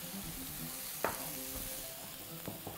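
Mushrooms with thyme fry in oil, a faint steady sizzle with a few soft clinks and taps of a utensil in the pan, no talking.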